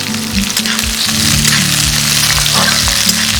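Green chilies and chopped onions hitting hot oil with bay leaf, dried red chili, cinnamon and cardamom for a raw jackfruit curry, a loud, close, crackling sizzle that holds steady throughout.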